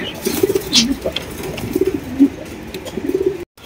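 Black magpie pigeons cooing nearby at a pigeon farm, a series of soft throaty warbling calls repeating every second or so, with faint background chatter.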